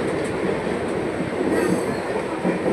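A train rolls along the rails with a steady, loud rumble and rattling wheel noise that continues without a break, heard up close from on board.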